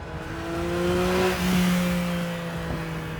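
Porsche Cayman GT4 RS flat-six accelerating hard on the autobahn, a loud, rising engine tone with a brief dip as it shifts gear, then climbing again, heard up close without talk.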